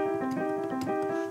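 A piano chord played with the wipe technique, a bright sustained chord with quick repeated sweeping strikes layered over it, close and fairly loud, no one speaking.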